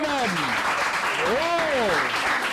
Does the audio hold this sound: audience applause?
yes